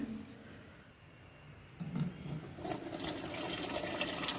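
Water pumped by a motor pours into a mixing tank at a poultry farm, starting faint and swelling into a steady, splashing rush about halfway through, heard at moderate distance and without talk.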